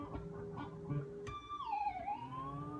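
A distorted electric guitar on a Floyd Rose whammy bar gives a sharp pick attack, then a gliding, wavering pitch bend that mimics a horse's whinny, with no talking.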